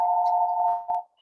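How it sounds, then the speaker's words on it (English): A telephone gives a single steady electronic ring that holds for about a second, with a brief flutter before it cuts off, clear and alone in an otherwise quiet room. "Sorry about that phone ringing."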